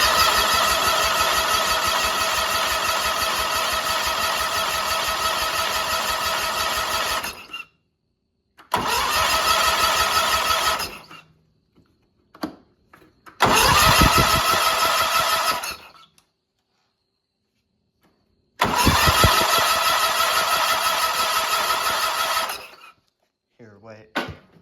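A big riding mower engine tries to start after its battery was charged, cranking and catching in several long loud bursts of roughly three to seven seconds, separated by silent gaps, with brief talk in between.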